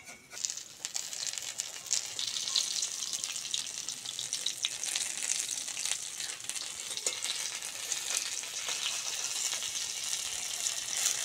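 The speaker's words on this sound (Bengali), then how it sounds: "একইভাবে সবগুলো বড়া ভেজে নেব।" Prawn fritters frying in hot oil over moderate heat, a continuous bright bubbling sizzle with crackles that holds steady close by throughout.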